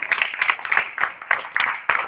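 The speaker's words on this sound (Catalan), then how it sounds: "un aplaudiment per ells" An audience at a live band concert in a small music venue claps in an uneven, bright patter of scattered hands, moderately close and short-lived, with no voices over it.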